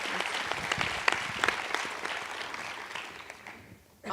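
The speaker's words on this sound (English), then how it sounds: "so please, another round of applause." An audience at the 14th Desmond Tutu International Peace Lecture applauds in a sustained, full round of clapping that gradually thins and fades out near the end.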